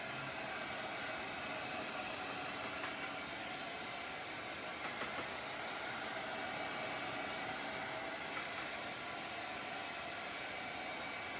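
A hand-held dryer blows steadily over freshly applied chalk paste on an oval sign, producing a continuous close whooshing hiss with no talking.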